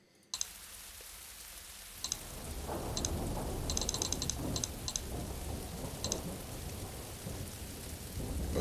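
Steady synthetic rain hisses across the whole scene in the video game There is no game, joined by a low rumble and a scatter of sharp mechanical clicks in small bursts; no one speaks over it.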